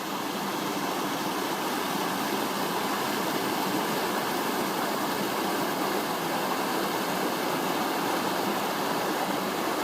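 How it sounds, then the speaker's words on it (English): Continuous rushing water from small falls in a stream, a dense, even splash with no pauses and no voices. "It's got a couple of little waterfalls."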